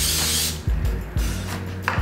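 Olive oil is sprayed from a pump sprayer onto sliced cucumbers, giving short bursts of airy hiss mixed with the clicking and ratcheting of the spray mechanism, close up.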